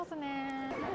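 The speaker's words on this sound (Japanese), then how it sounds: "見て、猫がいる。" A single drawn-out meow from a cat near Hakone-Yumoto station, close and clear against quiet street ambience, lasting under a second.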